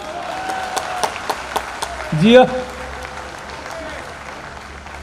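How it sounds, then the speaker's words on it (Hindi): Audience applause at a Delhi Hindi comedy poetry gathering swells into a short burst of clapping from the crowd, preceded by a few scattered claps, with a voice speaking over it. "ये उन्हीं लोगों ने ताली बजाई है"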